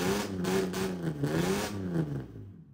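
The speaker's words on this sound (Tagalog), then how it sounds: "inline 6 full exhaust na diesel na Mercedes-Benz" A 1988 Mercedes-Benz W124 300D with a naturally aspirated inline-six diesel and full exhaust revving, its low, gruff note rising and falling in a couple of quick blips, close and steady before cutting off.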